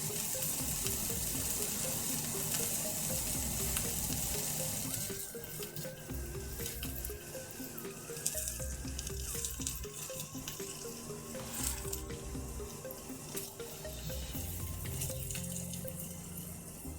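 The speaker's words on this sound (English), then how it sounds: "So you guys can hear all the sizzle." Onions sizzling in a pan while cooking pork loin, a steady broadband hiss and crackle running continuously at moderate level, with a stretch of running tap water mixed in and no talking.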